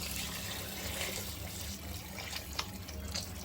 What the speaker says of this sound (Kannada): ನಾವು ಸ್ವಲ್ಪ ಬಿಸಿ ನೀರು ಹಾಕೋತಾ ಇದ್ದೀವಿ, ಕಾಯಿಸ್ಬಿಟ್ಟು ಹಾಕ್ಕೊತೀವಿ ನೀರು.